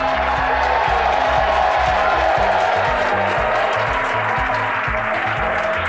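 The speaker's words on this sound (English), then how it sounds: "Crowds cheering here at SpaceX Mission Control Hawthorne" A crowd cheers at SpaceX Mission Control in Hawthorne as a Falcon 9 booster lands, a sustained roar of voices and applause beneath a rhythmic low throb.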